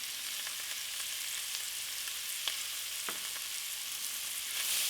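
Onion, celery and other vegetables with salt and turmeric sizzling quietly in a pan for a stew, a soft steady fry with a few faint stirring scrapes.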